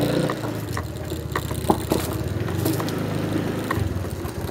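Rusi Flex 125i scooter engine runs at a steady idle with a mid-pitched mechanical putter and light clatter, fairly close, with faint background noise.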